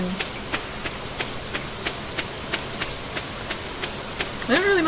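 Steady game rain patters throughout in the farming game Stardew Valley, with soft repeating ticks and a brief rising chime near the end; no talking.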